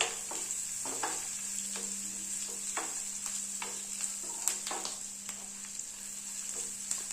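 Onion and asafoetida fry in a pan for coconut chutney, giving a steady, bright sizzle under repeated scraping strokes of a spoon; the frying carries on evenly and close by, with no voices.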